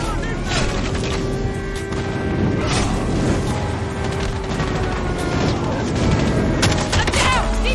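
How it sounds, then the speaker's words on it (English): Friendly airstrike explosions boom in a mobile shooter video game, a dense, continuous roar of blasts and crackling gunfire with scattered sharp impacts, mixed with game effects throughout. "Friendly airstrike incoming."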